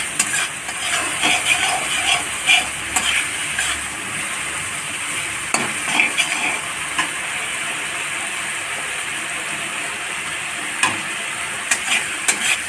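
Spices and masala sizzling and frying in oil for a radish curry, a steady crackling hiss with frequent stirring scrapes and clinks of a utensil against the pan.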